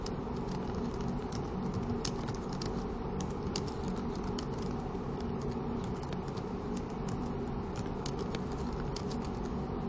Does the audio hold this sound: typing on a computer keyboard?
yes